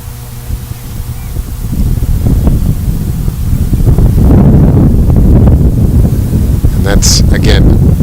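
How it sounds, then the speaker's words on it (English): Heavy wind buffets the microphone at an outdoor boys' soccer game, a loud, constant low rumble and roar that builds and holds, with faint voices and a couple of high whistle-like tones near the end. "the wind factor certainly playing into this one"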